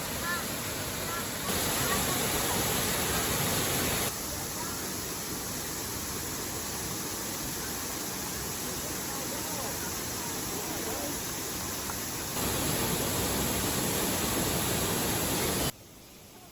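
Steady, broadband roar of a sacred waterfall in rural Nara, Japan, fills the scene continuously, loud and close, with slight shifts in intensity.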